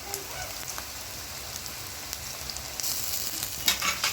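Ginger garlic paste sizzles softly in hot oil in a pan, a faint, even crackle with a few light stirring scrapes near the end.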